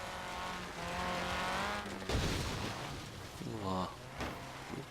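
A car drives off-road in Forza Horizon 3, its engine droning steadily with a loud rough surge partway through and tire noise, while someone talks over it.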